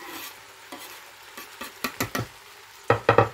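Garlic cloves are added to onions frying in a pan, giving a quiet sizzle broken by several sharp stirring scrapes, a scattered few and then a closer cluster near the end.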